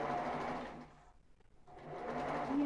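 A sewing machine stitches ribbed knit fabric, a fast close mechanical hum and chatter that drops away for about a second before starting up again, with no one speaking.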